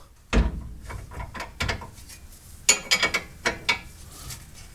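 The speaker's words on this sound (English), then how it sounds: "See if I can hit it with a dead blow" A dead blow hammer strikes a front-end control arm part on a second-generation F-Body car, a series of sharp thuds, a couple early and then a quicker cluster of several blows.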